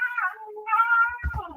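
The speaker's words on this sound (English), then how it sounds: "Is that a cat?" A cat meows close by in a drawn-out, wavering call, pauses briefly, then gives a second longer meow, with a faint low thump at the end.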